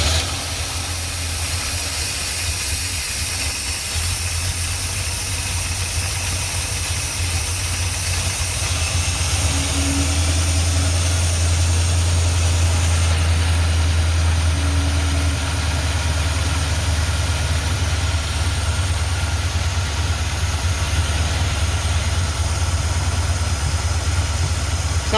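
A 1978 Plymouth Trail Duster engine running at a steady, loud idle with a constant low rumble for the whole stretch, with no voices over it.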